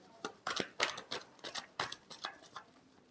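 A tarot deck is shuffled close by, with a quiet run of quick, crisp papery flicks and slaps in an uneven rhythm.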